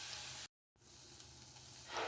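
Minced chicken meat fries in a pan with oil, giving a steady, close sizzling hiss that cuts out briefly and then resumes, swelling slightly toward the end; no one speaks.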